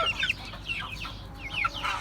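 Young Türken, Ameraucana and village chicks cluck and peep in short, high chirps, a few close calls scattered over two seconds against a quiet background.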